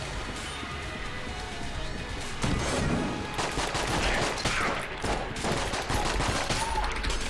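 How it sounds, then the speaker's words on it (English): Enemy bullets flying in Enter the Gungeon, a busy stream of rapid shots and impacts that grows denser partway through, loud and close with music underneath. "Oh, that's an enemy bullet."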